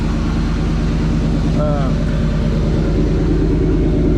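Chevrolet K5 Blazer 4x4 engine idling after start-up, a steady, loud low rumble with an even pulsing exhaust throb throughout, up close and unbroken.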